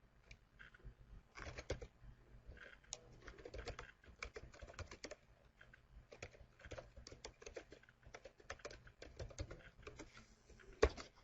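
A message is typed on a computer keyboard while configuring a Cisco IOS banner, producing a faint, fast, continuous patter of keystrokes with a few louder clacks.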